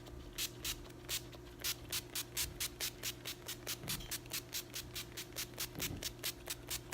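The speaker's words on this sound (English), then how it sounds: "So we're just gonna spray our face to set everything together." NYX matte finish setting spray misted onto a face in a rapid train of short, evenly spaced pump bursts, about three per second, soft and close over a faint hum.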